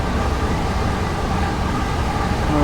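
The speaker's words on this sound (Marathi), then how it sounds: "मग चालते ट्रेन." A train in Train Sim World 3, running on the Dartford to Gillingham route, rolls along with a dense, steady rumble and faint tonal whine throughout.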